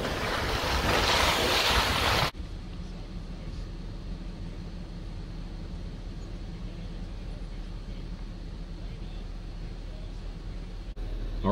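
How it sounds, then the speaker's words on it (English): Strong wind gusting, up to 50-kilometer gusts, through snowy woods near a remote off-grid cabin. Loud buffeting wind noise opens the clip, then gives way to a steady, softer roar that carries through to the end. "Wind is howling pretty good."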